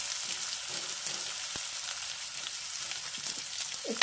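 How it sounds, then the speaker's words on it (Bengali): Chopped onion frying in a pan of hot oil, a soft steady sizzle that runs throughout with a few faint stirring scrapes and no voices. "এবারে দিয়ে দেব পেঁয়াজ কুচি। একটু নাড়াচাড়া করবো।"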